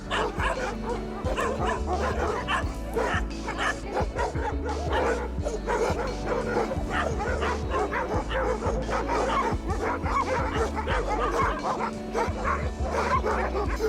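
A pack of dogs along a rural road to Polykastros, Greece, barks, yips and whimpers in a constant overlapping chorus, several animals close by and loud for the whole stretch.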